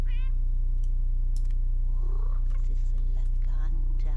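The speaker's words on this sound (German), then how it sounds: "Oh, schnurrt er?" A pet cat in The Sims 2 video game meows briefly at the start over a low steady hum, followed by faint soft chirps and vocal murmurs.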